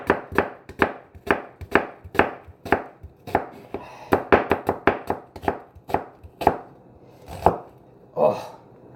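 A knife chops onions on a cutting board for BBQ side dishes, giving quick, close, loud thuds in uneven bursts that speed up midway and then slow to a few final strikes.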